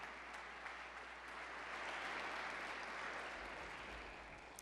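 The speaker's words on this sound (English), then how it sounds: "receive her with a warm round of applause" An audience at a religious gathering gives a warm, steady round of applause that swells slightly in the middle and continues evenly without talk, sounding somewhat distant and soft.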